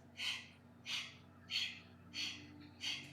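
Forceful exhalations during a seated diaphragm breathing exercise: five sharp, breathy puffs evenly spaced about two-thirds of a second apart, close and clear over a low steady hum.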